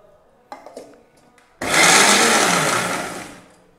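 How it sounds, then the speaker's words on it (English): Chopped banana stem is ground in a blender: a few short knocks and handling sounds first, then the motor starts abruptly and runs as a loud, steady whir for about two seconds. "let us just grind the chopped banana stem"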